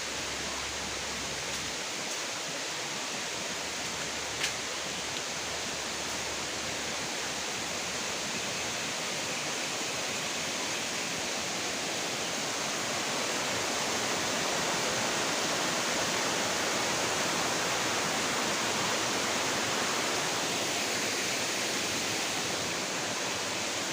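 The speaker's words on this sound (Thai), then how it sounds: "น้ำตกก็เป็นชั้นๆนะครับ" A tiered waterfall at Nang Khruan in Tak province pours in a steady, broadband rush that holds constant and fairly loud throughout, with no voices over it.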